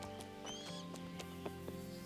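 Soft, rhythmic clip-clop of a horse's hooves in Kingdom Come: Deliverance, about eight evenly spaced steps, faint beneath a steady background drone.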